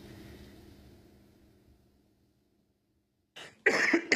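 A man coughs sharply at close range near the end, two quick harsh bursts after a quiet stretch, in a spoken interview setting.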